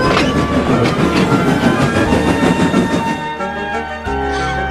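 A steam engine pulls ballast wagons along a small railway, its loud, steady rolling rumble with rhythmic wheel clatter close by, then a sustained tonal horn-like note near the end.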